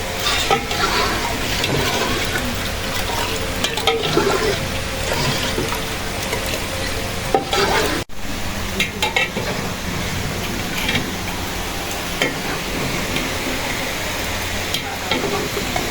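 Green cardamom frying in a hot pan while being stirred, a steady close sizzle with scraping of the utensil against the pan and one brief sharp knock partway through.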